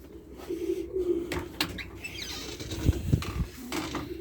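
Baby feather-footed pigeons, heard close up giving soft, low coos, with scattered chirps and a brief flutter of wings.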